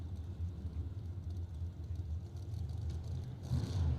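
Drag racing cars idling and rumbling at the start line, a station wagon in one lane and a Corvette Roadster in the other, with a steady low engine drone that swells louder near the end.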